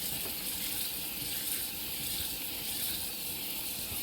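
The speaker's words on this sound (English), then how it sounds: "You want to work them around in the water." Green beans being rinsed for canning in cool or lukewarm water, a steady close rush and splash of running water in a sink, soft and continuous with no talk.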